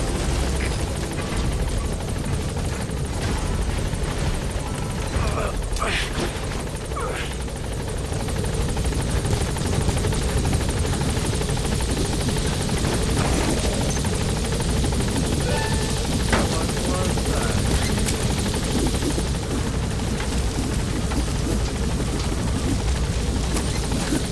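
A helicopter in the video game Metal Gear Solid V hovers near a blocked landing zone, its rotor thrumming loud and steady the whole time with a dense low roar and faint scattered pops.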